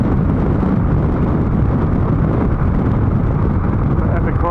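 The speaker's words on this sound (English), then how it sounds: "Bloody windy up here." Strong wind on top of a ridge along Abercrombie Road near Taralga, battering the microphone on a motorcycle ride: a constant, loud, rough roar and buffeting rumble with no break.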